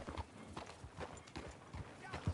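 Horse hooves clip-clop steadily at a walking pace in a video game, a regular sequence of hollow knocks that continue under a voice urging the animal along.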